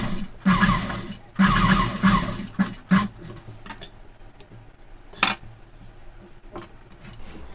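Sewing machine stitching a cotton saree-border designer blouse, with short bursts of rapid mechanical stitching, two longer runs followed by brief clicks and taps, close and fairly quiet, with no talking.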